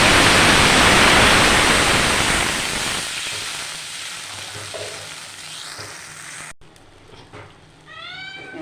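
Water hits a hot pan of black cumin and green chillies with a loud hissing sizzle that slowly fades to a softer simmer, with a short cut near the end and faint meowing from a cat.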